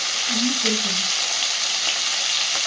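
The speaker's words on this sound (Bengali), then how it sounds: "মা এখানে বসিয়েছি মাছ ভাজা, এটা ভোলা মাছ" Bhola fish frying in a pan, a steady close sizzle of hot oil throughout, with a brief faint tonal squeak early on.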